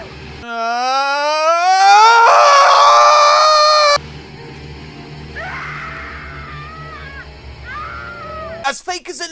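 A woman strapped to a table screams while giving birth in a film scene as her mother beats and berates her. One loud, sustained scream rises in pitch for several seconds, then gives way to quieter, broken wails and cries.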